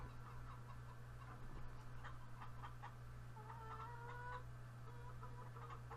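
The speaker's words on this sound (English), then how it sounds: "As you can see, our chickens are sort of free range." Chickens cluck and chatter in short bursts in a Farming Simulator 2013 farmyard, faint against a steady low hum.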